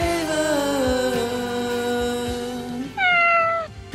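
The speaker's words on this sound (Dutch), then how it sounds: "Miauwkes." A cat's meow rises out of a music track, one clear drawn-out call heard near the end over steady melodic backing and beat.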